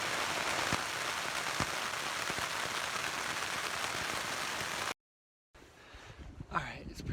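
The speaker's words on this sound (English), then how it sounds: "It's been raining all night and all morning." Rain drums steadily on a tent in the Colorado high country, a dense, even patter broken by a few sharper drops, then a brief cut to silence followed by quieter pattering with some handling noise.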